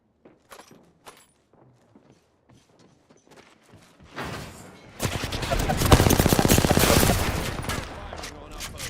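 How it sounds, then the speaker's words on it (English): Video game Apex Legends gunfire: scattered single shots at first, then a dense sustained burst of rapid automatic fire, loud and close, with a game voice line mixed in. "Firing on our foes."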